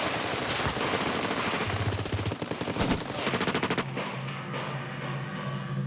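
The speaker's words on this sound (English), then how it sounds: "the Bolivian soldiers open fire" Bolivian soldiers open fire on guerrillas crossing midstream in a river, sustained bursts of rapid automatic gunfire and shots crackling densely for several seconds, then a lower rumble as the firing tails off.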